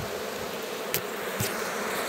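Bees buzz steadily around wooden beehive frames in a hive in the Brazilian sertão, a dense, even drone with a couple of louder insects passing close by.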